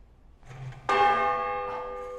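A large bell, rung by yanking its cord, gives one loud clang after a soft preceding knock and then hangs in a long, bright, slowly fading ring.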